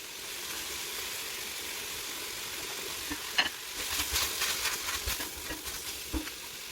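Tomato sauce goes into a pan of cooked beans for a chicken pasta and is stirred in with a steady sizzle, scraping and stirring strokes growing busier midway through, with no talking.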